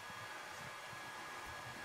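Hair dryer blowing on acrylic paint, a steady, close whooshing roar of air and motor that continues without a break, with no voices.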